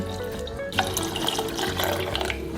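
About 400 ml of water pours steadily into a pot for a couple of seconds, a close splashing gush with no talking.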